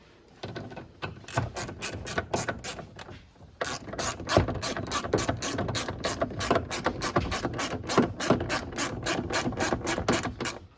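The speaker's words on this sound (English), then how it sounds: "I'm going to put the screw here. Take your 11mm socket." An 11mm socket ratchet wrench drives a screw into a 2002-2006 Toyota Camry rear bumper, giving fast, even clicking up close. It pauses briefly near the start and again around a third of the way in, then runs steadily to the end.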